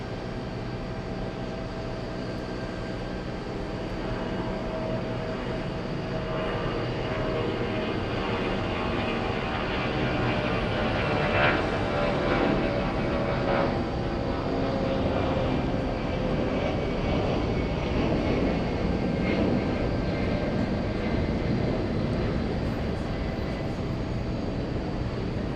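A passenger airplane lands at JFK airport, its engine roar steady and loud throughout, with broad jet rumble swelling slightly in the middle and continuing without talk.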